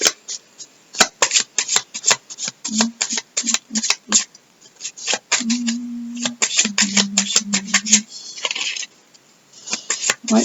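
Tarot cards are riffled and shuffled by hand in quick, crisp flurries of snapping and slapping, close and clear, with short pauses and a few murmured voices between.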